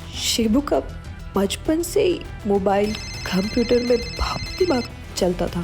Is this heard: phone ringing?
yes